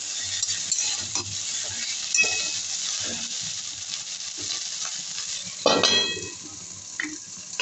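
Small puti fish fry lightly in a pan with aubergine, giving a soft close sizzle punctuated by several clattering spatula stirs and scrapes, with a louder burst of stirring midway and no talking.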